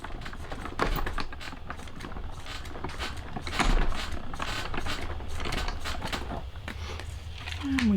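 Close-up cranking of a manual die cutting machine pressing card between plates through its rollers, with steady mechanical ratcheting and gear clicks running throughout and brief creaks.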